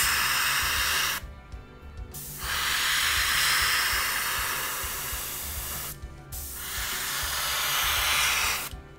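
Airbrush or spray can misting paint onto a miniature, a loud broadband hiss in two long bursts separated by short pauses, with no talking.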